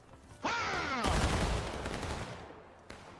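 A musket volley in a line-battle video game: one sharp, loud, massed crack of many guns firing together, rolling into a decaying rumble of echoing shots, then a fainter single report near the end.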